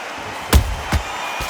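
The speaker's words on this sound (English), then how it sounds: "Good counter punching." Two sharp punches land in a professional boxing bout between Antonio Tarver and Roy Jones Jr, a heavy thud then a lighter one about half a second apart, with a fainter third hit after, over a steady arena crowd murmur.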